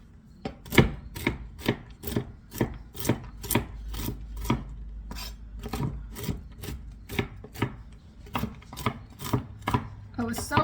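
A knife chops nuts on a board in a fast, even run of crisp, close knocks that keeps going for about ten seconds with no talking.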